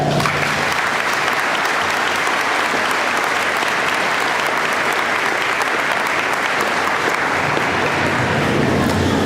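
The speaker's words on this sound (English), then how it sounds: "Please give them a round of applause." A graduation ceremony crowd gives sustained, loud applause, a dense and steady wash of many hands clapping that carries on without a break for several seconds.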